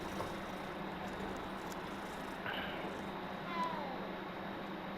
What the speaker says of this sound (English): That was a weird fucking meow.